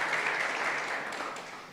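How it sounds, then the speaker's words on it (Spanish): A church congregation claps together in a short, steady burst of applause that fades slightly, with no voices over it. "Dele un aplauso al Señor si lo cree esta mañana"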